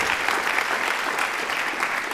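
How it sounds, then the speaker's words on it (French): Indoor audience clapping at a university competition evening at UNamur, a brief, steady burst of applause of even loudness throughout. "Les jobistes, ils méritent quand même d'être applaudis"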